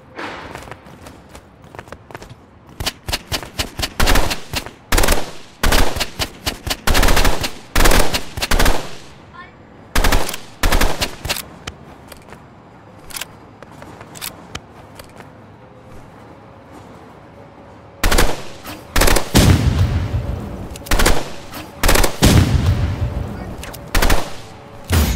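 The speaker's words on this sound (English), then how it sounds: "Why do you hit the burst rifle?" Rapid bursts of rifle fire crack out repeatedly in a shooter video game, clustered volleys with short gaps, loud and close, heaviest near the start and again in the final seconds.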